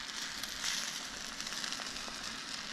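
A squash scramble frying in a well-seasoned cast iron pan makes a soft, continuous sizzle with faint crackles, steady and close, with no talking.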